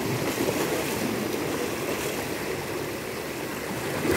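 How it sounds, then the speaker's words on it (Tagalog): Rough, choppy water slaps hard against a small boat in a continuous dense wash of splashing and surging, fairly close and steady, with no voices. "ang lakas ng hampas ng tubig"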